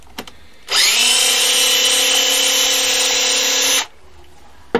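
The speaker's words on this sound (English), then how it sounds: "let's get the screws out first so you can see what I'm doing" A power drill removes screws from a scrapped site transformer, running as one loud, steady whir for about three seconds with clear starts and stops and faint clicks around it, alone and close.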